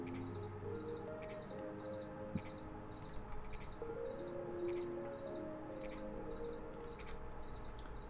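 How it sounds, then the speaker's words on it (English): A cricket chirps in regular short pulsed bursts through an indoor room, repeating steadily for several seconds over a low background hum. "Oh, the cricket's back."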